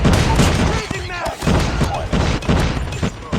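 Bursts of gunfire in the mobile shooter game Call of Duty Mobile on the Shipment map, rapid repeated shots and booms with someone talking over them.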